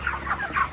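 Chickens at a village poultry farm cluck and call softly in a short burst of several overlapping notes, fairly faint against a steady fan hum.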